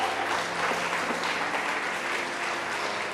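A church congregation applauds during a sermon, a dense, even wash of clapping from many hands that holds steady throughout, with faint voices mixed underneath.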